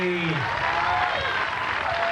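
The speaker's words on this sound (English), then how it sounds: "You got to applaud the effort, Kauai." Spectators at a 1997 women's pro beach volleyball tournament on Kauai applaud steadily after a dig, the clapping filling the clip under a commentator's voice.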